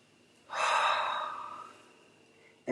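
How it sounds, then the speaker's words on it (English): One long, deep inhalation, close and breathy, swelling quickly and then tapering off over about two seconds, with a fresh breath just starting at the end; no talking. "the moment that we take a deep breath"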